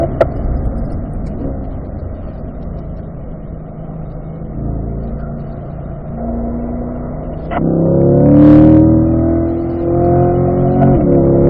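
A race car on a track session takes a right-hand corner, its engine note droning steadily then rising sharply as the driver powers out toward the straight, loud and close from inside the car.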